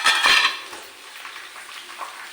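A lid comes off a pan of bitter gourd frying on low flame, a short metallic clatter up front followed by a soft, steady sizzle that carries on faintly to the end.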